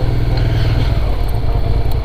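A low beginner motorcycle being ridden gives a continuous, throbbing engine drone with heavy wind rush over the microphone, steady and close throughout.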